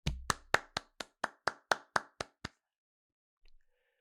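A single person claps about ten times in a steady, slightly slowing rhythm, close and crisp, then stops, leaving near silence with a faint brief sound afterward.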